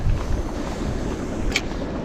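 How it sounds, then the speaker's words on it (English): Steady cold wind rushing and buffeting across the microphone outdoors on a calm seashore, a continuous low roar with a faint brief whistle partway through. "That wind is really cold"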